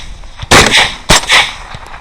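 Two sharp, loud rifle shots ring out about half a second apart, close by and echoing, during feral hog control on a Texas cattle ranch.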